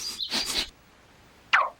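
Near a cave mouth, a bird gives a short burst of chirps, pauses, then adds a single bright, downward-sweeping call. The calls are clear and fairly close, with no speech.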